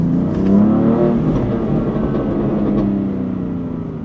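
A 2018 BMW M4 Competition with manual gearbox sends out a loud, close exhaust burble, a deep rumbling drone that eases off slightly toward the end, with no talk over it.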